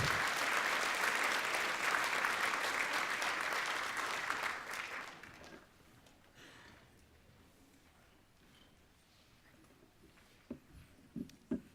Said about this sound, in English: Let's give him a big round of applause for his presence here.